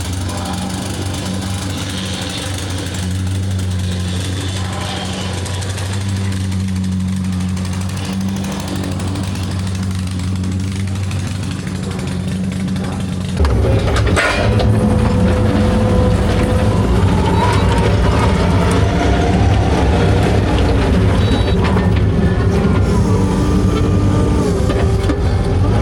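A compactor engine that sounds faulty runs with a loud, rough, pounding drone at a concrete job site, and the clatter turns harsher and louder about halfway through as it works hard, with no one speaking.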